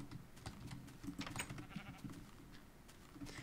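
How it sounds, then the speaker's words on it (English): Sheep bleating in the Minecraft video game, a few short game-animal calls over a steady low background hum, moderately faint and without talk. "Sheep, get over here."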